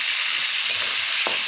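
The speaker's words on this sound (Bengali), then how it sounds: "এই যে তেলটা দিয়ে দিচ্ছি, গরম হয়ে গেছে। এখন সব মশলাটা দিয়ে দিব।" Spices sizzle and crackle in hot oil for a spicy mashed dish, a steady close frying hiss with a brief stirring scrape near the end and no talking.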